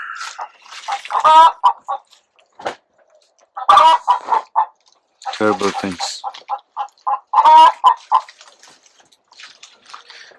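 A hen laying an egg clucks in loud, repeated bursts and drawn-out cackles near the microphone, with someone speaking briefly between them.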